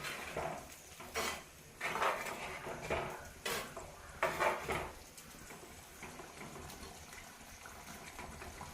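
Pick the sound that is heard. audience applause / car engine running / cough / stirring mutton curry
stirring mutton curry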